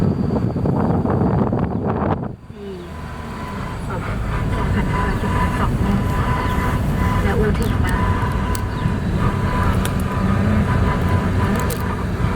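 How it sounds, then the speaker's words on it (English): A train bound for Chiang Mai rumbles steadily as it pulls away, a broad continuous roar with wind noise and occasional faint voices over it. "The train off to Chiang Mai. There she goes."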